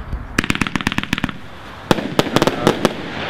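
Fireworks cake firing a rapid string of sharp, loud shots in two bursts separated by a short pause, each report crisp and close with crackling decay between.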